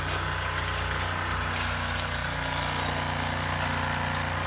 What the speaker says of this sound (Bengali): এই যে দেখেন বাইকটির সাউন্ড, গাড়ি স্টার্টে আছে কিনা।